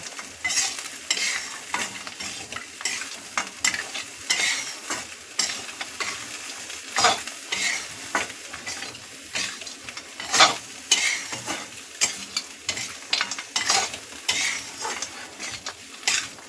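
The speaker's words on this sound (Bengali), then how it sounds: "বড়িগুলো সব দিয়ে দিলাম। এবার ভালো করে মিশিয়ে নেব।" Radish and lentil dumplings (bori) fry for mulo ghanto while a spoon stirs and scrapes the pan in repeated, uneven strokes over a continuous close sizzle.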